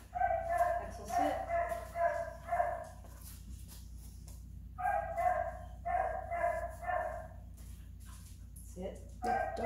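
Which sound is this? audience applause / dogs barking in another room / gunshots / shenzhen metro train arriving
dogs barking in another room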